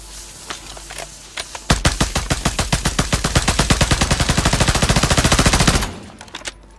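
Rapid automatic fire from a JAK Thunder Sidewinder in Warzone: a dense, evenly spaced string of loud, close shots pours out for about four seconds, then cuts off sharply. A few faint isolated pops come before and after the burst.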